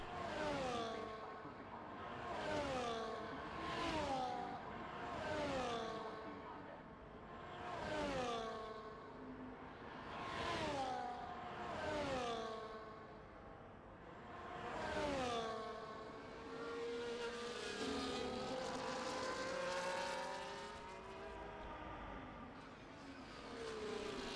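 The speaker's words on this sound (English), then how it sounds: "Sit on board with Hamilton right here in the Haas, as I think he's getting started with his second hot lap here." An F1 race car engine on a hot lap in the Haas around Baku in a video game, a high-pitched howl climbing through rapid gear shifts in a steady rhythm of rising revs, alone without talk.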